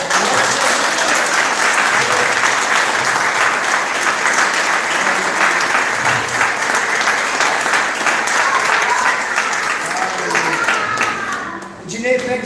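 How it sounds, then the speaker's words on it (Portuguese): A church congregation bursts into sustained, dense applause, loud and full for about eleven seconds before thinning out and fading, with voices mixed into the crowd noise. "Dá uma salva de palmas."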